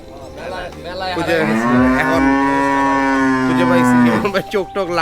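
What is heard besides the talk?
cows mooing at a cattle farm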